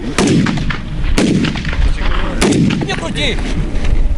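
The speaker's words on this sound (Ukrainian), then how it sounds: "Цього разу воїн працює з кулеметом." Loud gunfire from a machine gun during soldiers' training in Sumy Oblast, a few heavy bursts spaced about a second apart, with rumbling echoes and faint voices between shots.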